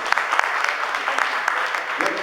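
A church audience claps together in a sustained burst of applause, dense and fairly close, with scattered voices mixed in beneath the clapping.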